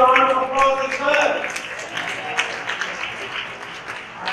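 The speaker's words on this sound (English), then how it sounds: "Everybody deserves a round of applause this year." Conference audience at a digital marketing presentation breaks into applause after a brief spoken voice at the start, the clapping steady then gradually thinning and fading toward the end.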